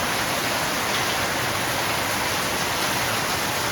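Steady, heavy rain pours down in a continuous dense hiss, close and loud, with no pauses or voices.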